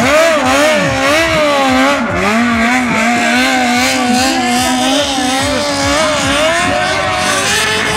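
Loud sport motorcycle engine revving and wavering in pitch, rising and falling repeatedly as it accelerates close by while drifting, continuous throughout.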